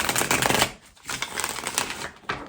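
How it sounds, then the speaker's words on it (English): Tarot cards shuffled by hand: a dense, papery riffle in bursts with a brief pause between them, close and fairly soft, with no talk. "give it a shuffle"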